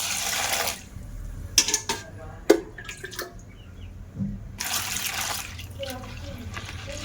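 Large sago pearls are rinsed clean in water, with splashes and drips at the start and end and scattered sloshing and small knocks in between.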